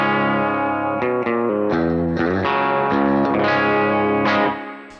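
An electric guitar played through a Blackstar ID:X 100 amp on a clean bright setting with EL84 voicing and reverb rings out in loud sustained chords and a few note changes, with a reverb tail as it fades.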